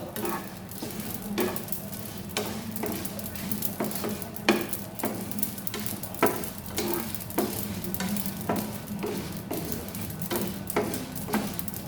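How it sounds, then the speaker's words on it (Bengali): Sesame and poppy seeds fry lightly in a pan with fried chilies while being stirred, giving a soft continuous sizzle broken by regular scraping strokes of the spatula, fairly quiet and without talk. "লঙ্কাটা ভাজা হয়ে গেল, দিয়ে দিলাম তিল আর পোস্ত।"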